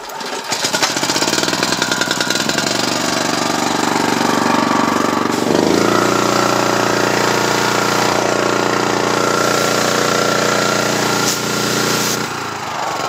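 Small gasoline engine of a pressure washer, choke on, running loud and steady outdoors with a continuous droning rumble for the whole stretch, the pitch shifting slightly partway through, with no talk over it.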